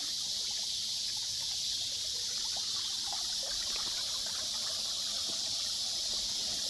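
Creek water trickling over rocks in a wild stream bed, a soft steady gurgle and babble under a constant bright hiss of running water, calm and unbroken.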